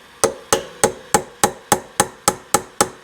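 A hammer strikes a chisel against the aluminum fork of a 1971 Kawasaki F7 motorcycle, ten sharp, evenly spaced metallic taps in quick succession, close and clear with no talking.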